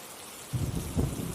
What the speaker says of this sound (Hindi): झोपड़ी के बाहर लगातार बारिश हो रही थी।